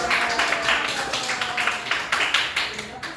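A classroom of students claps their hands together in a steady, fairly loud patter of overlapping claps that lasts a few seconds.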